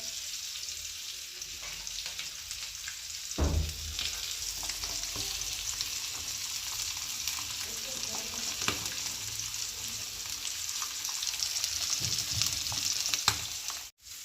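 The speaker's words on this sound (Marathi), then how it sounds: "आणि बनवूया आपण मस्त फिश फ्राय।" Fish fry coated in turmeric, salt, ginger-garlic, homemade masala and semolina sizzling in a pan in a village kitchen, a continuous close hiss with occasional clinks and stirring knocks, a brief louder clatter near the start.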